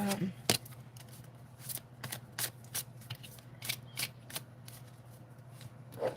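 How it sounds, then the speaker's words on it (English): Oracle cards being gathered and put away, with soft shuffling and flicking of the deck in quick irregular bursts, close and fairly quiet, over a low steady hum. "I'm going to put my cards up real quick"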